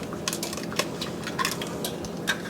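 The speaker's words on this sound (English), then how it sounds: "Now I'm going to put in 2 large eggs." Two large eggs dropped into cookie batter in a bowl for lime sugar cookies, giving a series of light clinks and taps of shell and utensil against the bowl, close and fairly quiet, with no talking.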